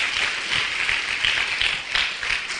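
A church congregation applauding in worship, a continuous mass of clapping with slight swells and uneven bursts, moderately loud and close, with no other sound standing out.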